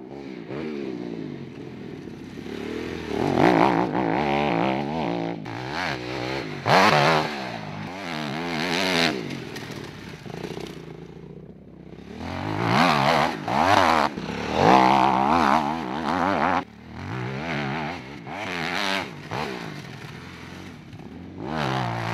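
An Aprilia 450 MXV twin-cylinder off-road motorcycle accelerates hard, its engine revving up and down in loud surges through repeated throttle bursts, close and dominant throughout with no talk.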